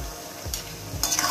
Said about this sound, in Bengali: কষানো শুরু হয়েছে